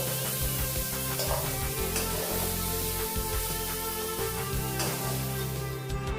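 Dry fruits lightly frying in a pan while being stirred, ahead of a royal fried rice; a steady, close sizzle runs throughout with a constant tonal hum underneath and no pauses.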